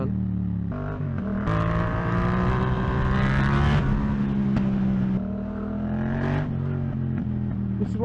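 Urban school-run traffic surrounds a Yamaha MT-07 motorbike: cars idle and pass nearby with rising and falling engine drones, a loud, steady roadside rumble throughout.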